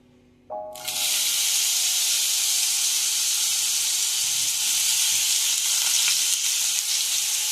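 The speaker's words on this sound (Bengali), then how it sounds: "তেলটা গরম হলে আমি এই গাজর আর আলুটা আছে এটা আগে একটু ভেজে নেব" Carrots and potatoes hit hot oil with an abrupt loud sizzle that settles into a steady, bright, continuous frying hiss, close and alone.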